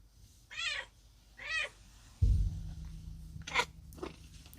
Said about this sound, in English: I don't know if you can hear my cat Fluffy just jumped up on the table here